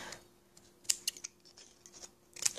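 Scissors snip through the corners of mouth mold material, several short crisp cuts at close range, spaced irregularly over a quiet background.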